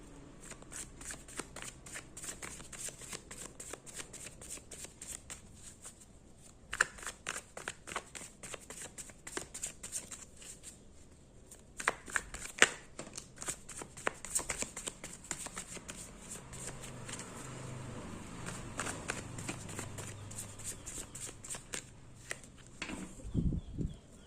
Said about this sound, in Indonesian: Oke, di sini aku akan shuffle kartunya.